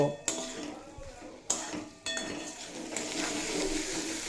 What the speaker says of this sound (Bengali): এই পোস্ত বাটা দিয়েও আমি দুই মিনিট মতো কষিয়ে নেব